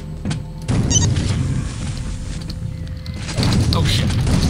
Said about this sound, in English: old-school rocket launcher, though